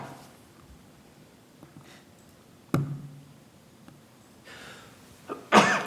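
One sharp sneeze near the end of a quiet stretch in a committee meeting room, loud and close, after a few faint taps and a soft knock earlier in the hush.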